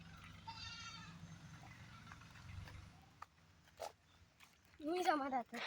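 A goat bleats a couple of times up close, with quiet footsteps, rustling and a few soft voices around it.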